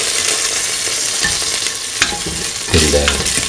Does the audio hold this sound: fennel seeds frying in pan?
yes